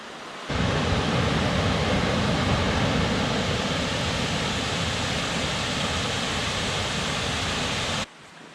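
A waterfall near a campsite on the Foothills Trail sends out a steady, dense rush of falling water. It starts abruptly, stays even and loud, then cuts off near the end, with no voices.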